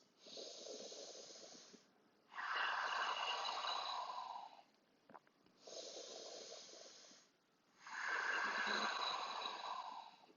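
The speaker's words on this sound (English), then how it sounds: "Two more deep breaths." Deep, steady breathing during a handstand warm-up, heard as four long alternating breaths (two inhales, two exhales), each about two seconds, close and fairly loud, with short pauses between them and no talking.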